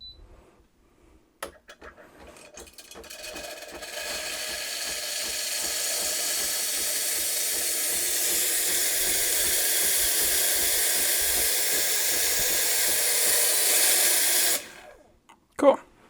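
A loud, steady hiss from a Tuni E2 58mm espresso machine's steam wand runs unbroken for over ten seconds, then cuts off abruptly, with faint clicks and a short burst afterward.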